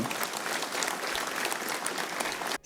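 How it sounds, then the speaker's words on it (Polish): A large crowd at a political party convention in Poland breaks into sustained applause, a dense, steady roar of many hands that cuts off abruptly at the end. "Brawa dla zespołu naszych prawników, którzy to wszystko napisali."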